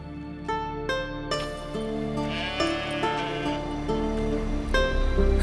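Sheep bleating in the video game The Witcher 3: a few wavering bleats over a steady bed of game ambience and music, fairly close and moderately loud, with no talking.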